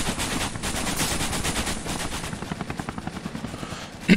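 A video game helicopter roars with its rotor while a machine gun rattles off rapid bursts, the shots becoming distinct rhythmic pops toward the end before a sharp final bang.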